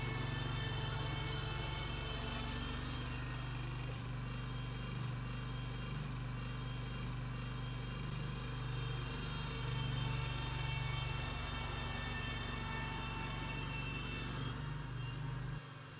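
A Spider ILD02 remote-controlled mower drives with a steady, droning engine hum and buzzing whine, constant and moderately distant for the whole stretch with no break.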